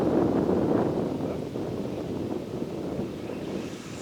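Wind gusting across the microphone at an outdoor RC plane flying field, a broad low rumbling roar that stays steady and fairly loud throughout, with no talking.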